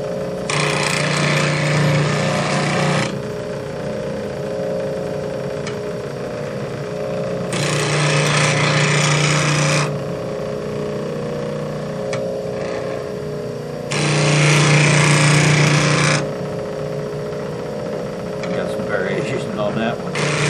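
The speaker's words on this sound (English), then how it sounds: "now this will be on the finer wheel" A woodturning tool is sharpened on the finer wheel of a bench grinder. The motor hums steadily throughout, broken by three loud, close grinding passes of two to three seconds each.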